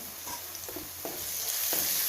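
Tempering with whole pieces of sweet-sour mango cooks in a pan, giving a steady close sizzle broken by several soft scraping stirs.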